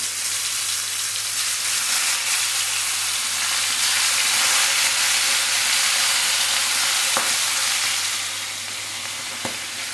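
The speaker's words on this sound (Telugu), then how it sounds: "ఆయిల్ వేసుకొని చేపలు వేసుకోవాలి." Seer fish frying in oil in a pan gives off a loud, continuous broadband sizzle that stays steady and close, with a couple of faint knocks near the end.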